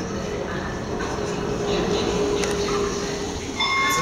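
Rumbling train noise with rolling wheels and brief high squeals, fairly close at Clapham Junction station, with voices murmuring in the background.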